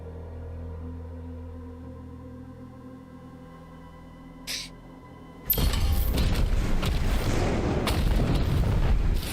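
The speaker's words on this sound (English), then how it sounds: "So it's artillery cannons." Artillery cannons in Doom: The Dark Ages erupt into a sudden loud, heavy barrage after a quiet stretch with a faint low hum, the booms and crashes sustained and dense through the rest of the clip.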